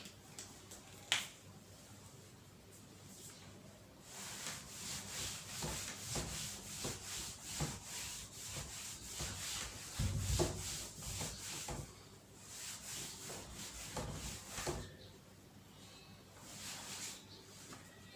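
Cloth or duster rubbing chalk writing off a board in an accountancy class, a steady run of brisk back-and-forth scrubbing strokes, close and moderately loud, continuing for most of the stretch without talk.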